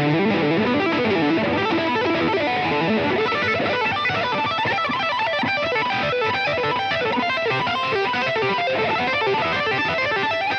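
Electric guitar solo played through a Digitech RP1 multi-effects preset, heavily distorted with chorus-like shimmer, a dense continuous stream of fast notes at loud, even level with no talk.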